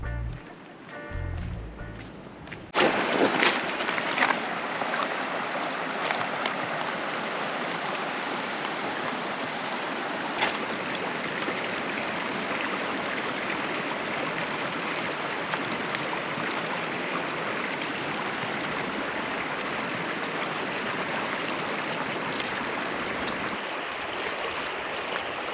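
Continuous rushing of a Colorado river flowing over rocks, a broad steady wash of water heard up close for over twenty seconds after a short quieter start.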